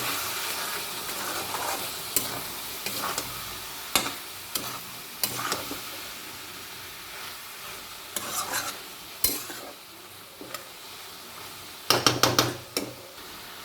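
A spoon scrapes and clinks against a pan as spice paste is stirred into a sizzling vegetarian bean seed curry, irregular sharp metallic knocks over a soft frying hiss.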